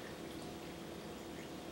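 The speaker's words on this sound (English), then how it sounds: "take your room temperature or a little bit cold water, pour it nicely over the coffee grounds" Room-temperature water poured over coffee grounds to make cold brew, a soft, steady, continuous trickling stream heard faintly and up close, with no talking.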